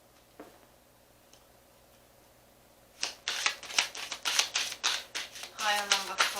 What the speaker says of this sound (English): So bear with me on the shuffling.